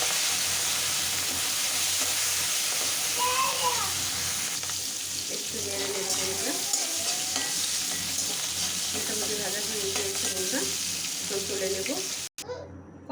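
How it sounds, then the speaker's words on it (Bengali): Prawns sizzle in hot oil in a kadai as they are stirred, a dense continuous hiss broken by scraping stirring strokes, close up, with faint voices underneath, cutting off abruptly at the end. "এখন চিংড়ি মাছগুলো ভেজে নেব।"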